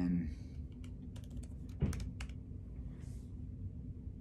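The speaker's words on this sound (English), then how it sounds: "so I can just type that in" Keys on an Apple Mac keyboard tapped in a quick irregular burst while an Apple ID password is entered, light clicks over a steady low room hum, with no talking.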